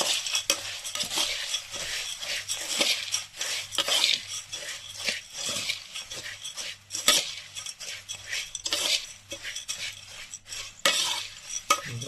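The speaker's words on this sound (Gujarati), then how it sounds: "જુઓ હવે આપણે આને મિક્સ કરી લઈએ।" Puffed rice for Kolkata-style jalmuri is tossed and stirred in a bowl with a spoon, making busy, close scraping and clinking with rustling grains in an uneven, continuous rhythm.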